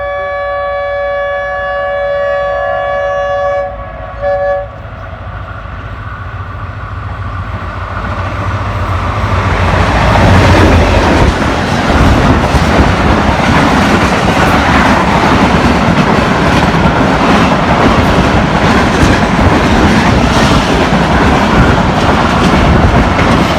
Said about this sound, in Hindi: स्पीड के साथ गुजरी है 28 डाउन शालीमार एक्सप्रेस